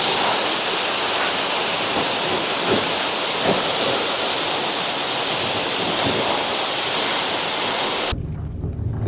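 Waterfall at a jungle camping spot in India: a loud, steady, broadband rush of falling water that fills the whole sound, unbroken until it cuts off abruptly at the very end.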